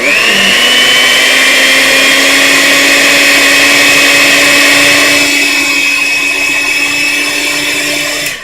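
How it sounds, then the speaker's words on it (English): Electric mixer whipping a homemade DIY moisturizer: a loud, steady motor whine holds level for about eight seconds, its pitch shifting slightly midway before winding down at the end. "don't touch your mixer while it's mixing"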